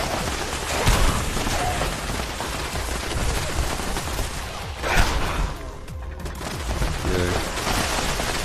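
Defensive turrets in Fallout 76 fire dense, continuous rattling automatic fire, loud and sustained, with occasional heavier booms mixed in and faint talk underneath.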